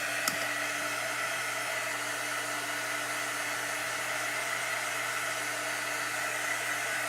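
A handheld heat drying tool blows a steady, even whoosh of hot air over craft paint, close and constant throughout with a faint click at the start and no talking.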